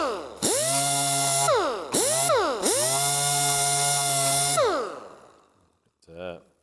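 Power tool whirring as it polishes the aluminum oil cooler mating surface of a Mercedes M113 engine with 2000-grit abrasive, a loud, close whine that revs up, dips and spins down several times.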